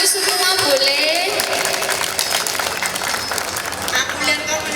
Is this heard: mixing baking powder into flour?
no